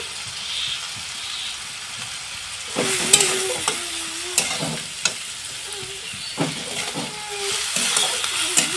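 Spices and chili powder frying in a pan, a continuous sizzle under frequent scrapes and knocks of a spoon stirring against the pan, busier and louder after the first few seconds.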